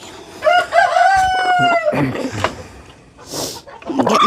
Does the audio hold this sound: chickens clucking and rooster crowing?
yes